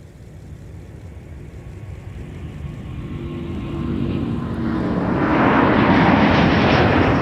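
An airliner at Minneapolis–Saint Paul airport, its jet engine roar building steadily from a distant rumble to a loud, broad whoosh as it draws nearer, no voices.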